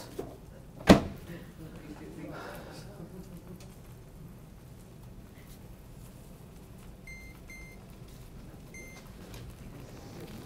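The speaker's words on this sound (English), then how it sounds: "Put this in the microwave." Microwave oven heating semi-sweet chocolate chips with a little butter: a sharp door clunk, then a low steady hum running for several seconds, ending with a few short completion beeps, with a voice speaking faintly in the background.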